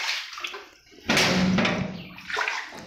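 Flood water around a house sloshing and rushing, a steady wet roar that swells suddenly and holds, with fainter splashing before and after; no talk over it.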